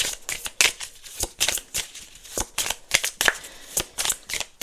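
Tarot cards are shuffled close up in quick, irregular riffling bursts of papery flicks that continue steadily throughout with no talking.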